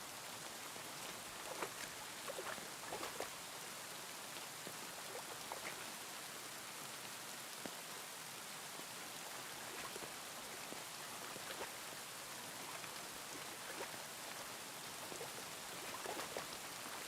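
Steady heavy rain in the video game Kingdom Come: Deliverance 2 pours without pause, a dense hiss of drops hitting surfaces, with a few louder spatters now and then and no voices.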